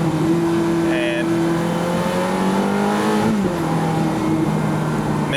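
2005 Ferrari F430 Spider engine revving as it downshifts on the road, a loud steady drone with pitch rising and falling and a sharp blip near the middle, with continuous wind and road noise.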